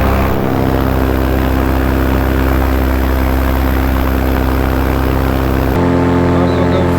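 A paramotor engine runs at full throttle in flight with a loud, steady propeller drone and buzzing harmonics, then the tone shifts abruptly near the end.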